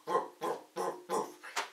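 A person imitates a dog, letting out five quick, evenly spaced bark-like yaps in a close, clear row with brief gaps of silence between them.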